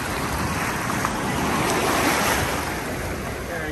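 Ocean surf at Waikiki Beach, Hawaii: a loud, continuous wash of breaking waves swelling and receding close by, mixed with gusty wind noise buffeting the microphone.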